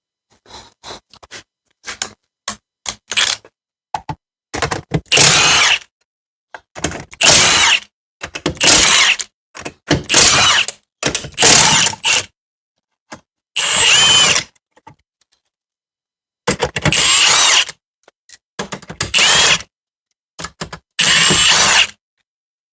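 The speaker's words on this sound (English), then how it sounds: "I'm going to take the wheels off, and they are a 19 millimeter." A power tool removes 19 mm lug nuts from the wheels of a Jeep Patriot. It runs in loud, close bursts of a few seconds each, separated by short silences.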